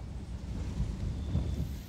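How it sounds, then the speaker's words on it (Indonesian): Storm thunder from the Resident Evil 7 video game, a low, dark rumble rolling steadily through the whole stretch with slight swells, moderately loud and heard alone without talk. "Suara badai, suara badai."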